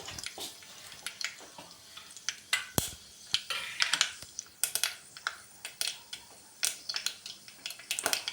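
Mustard seeds popping and crackling in hot oil in a clay pot, a dense run of sharp irregular pops and spits with a light sizzle underneath, close and fairly quiet.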